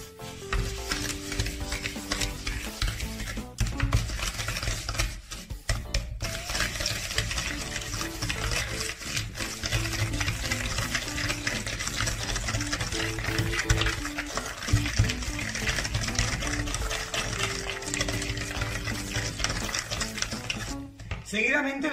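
Oil and lemon zest being stirred into lemon crinkle cookie dough in a bowl: steady scraping and sticky churning for about twenty seconds, close and continuous, with a faint musical backing.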